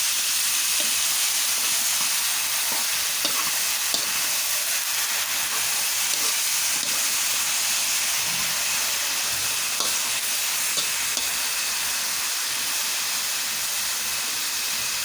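Menudo sizzles in a pan while being stirred a little, a steady bright hiss of frying with faint scrapes now and then, close and continuous.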